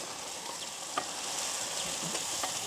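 Sliced carrots sizzle in a pan with softened tomatoes in a village kitchen, a steady bright hiss of frying with a few soft stirring clicks, close and continuous without talk.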